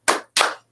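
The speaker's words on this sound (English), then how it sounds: "Give us 2 claps and a Ric Flair." Two sharp hand claps, close and loud, spaced about a quarter second apart, each with a quick decaying tail, during a wrestling-themed subscriber celebration livestream.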